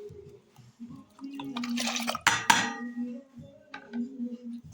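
Water poured into a vessel while preparing a herbal hair spray, heard as a close, brief splashing burst amid quiet clinks and small kitchen handling noises.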